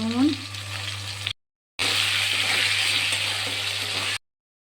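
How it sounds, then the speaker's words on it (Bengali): Potatoes frying in hot oil for a tilapia fish curry, a steady bright sizzle heard in two stretches separated by a short silence, with a faint low hum underneath and no talking. "আলুগুলো এবার ভেজে নেব মাছের ঝোল করার জন্য।"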